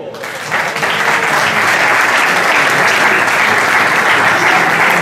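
Steady, dense applause from a crowd at a prize-giving for an auto slalom race in Gambarie, Italy, fairly loud and sustained throughout after a brief quieter start.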